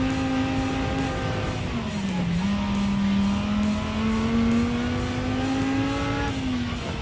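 A Renault race car in Gran Turismo 7 roars past on track, its steady engine drone sliding down in pitch, briefly dipping, then climbing again as the revs build, loud and continuous throughout with no talk.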